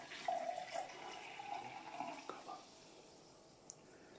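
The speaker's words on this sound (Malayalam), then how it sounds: "സോഡ ഈ വലിയ ഗ്ലാസ്സിലേക്ക് ഒഴിച്ചു കൊടുക്കാം" Soda poured into a large glass for a fuljar soda drink, a soft fizzy splashing pour that trails off into quiet with a small clink near the end.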